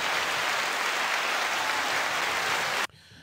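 A burst of dense, steady applause on a podcast celebrating dads and Black business, loud and continuous for nearly three seconds before cutting off abruptly into near silence.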